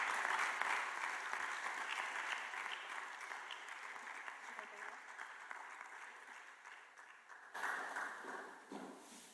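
Applause fills the room at a meeting of COSAC chairpersons, thick at first, easing slightly, then swelling again briefly near the end.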